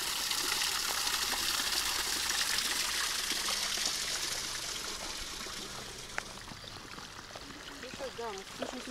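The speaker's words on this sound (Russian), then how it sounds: "И водичка льется, такие водопадики образуются." Water trickles and splashes steadily over small forest waterfalls, close and continuous, with a faint voice briefly near the end.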